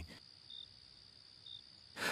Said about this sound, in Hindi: झींगुरों की आवाजें सुनाई दे रही थीं